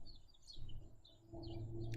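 Morning birds chirp outside an open window, heard from inside a room as faint, scattered high tweets over a low steady hum.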